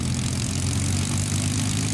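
A P-51 Mustang's Rolls-Royce Merlin V12 engine running on the ground while parking at EAA AirVenture, a steady loud droning rumble with a broad hiss of propeller wash, continuous and fairly close.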